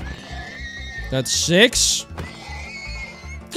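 Minecraft horses neighing as they are killed for leather, two bright whinnies in quick succession close up, with someone talking over the game sounds.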